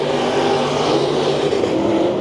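Race cars roaring around the track during a heat race at Bakersfield Speedway, a loud, continuous engine din close by with no break.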